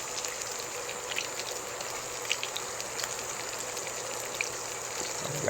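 Steady bright crackling and sizzling of breaded coconut katsu frying in hot oil, with scattered pops and spits throughout and no voices.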